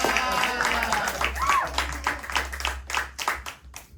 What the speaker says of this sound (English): And Michael, clap for Michael.